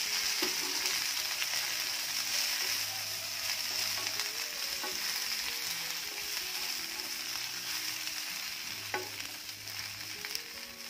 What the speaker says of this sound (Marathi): तेल चांगलं गरम झालं की यामध्ये जी भेंडी आहे ती घालायची।